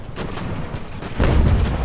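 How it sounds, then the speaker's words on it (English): A broadside cannon booms in the naval strategy game Ultimate Admiral: Age of Sail, a heavy low rumble swelling about halfway through over a steady background of battle noise. "hopefully they don't all die when this cannon fires"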